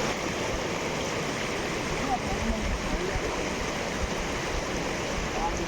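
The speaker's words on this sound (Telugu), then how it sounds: "ఇంత ఫోర్స్ నీళ్ళు మీకు దొరుకుతాయా అని." Water rushes forcefully at a village pond embankment where people are fishing, making a loud, continuous, broadband roar close by and without breaks.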